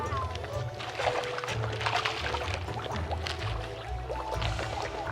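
A crowd of fish splashes and sloshes the water of a temple pond in Hawaii with close, busy, irregular splashes and drips, while people talk over it.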